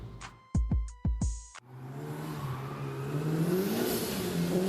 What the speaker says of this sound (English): the start of this video is me driving around in my 2005 white Evo RS